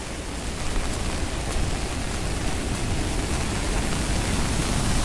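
Water rushing below the spillway of Isrup lake near Washi, Dharashiv, a steady, dense broadband roar that holds constant throughout with no voices.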